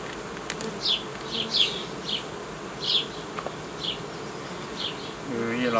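Honeybees buzzing steadily around a hive, with individual bees droning close by in brief passes over a dense background hum.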